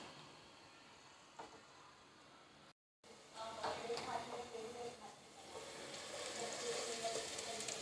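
Sliced onions hit hot oil in a cooking pot and break into a steady, rising sizzle after a brief silent gap, the frying hiss building and holding close under faint background sound.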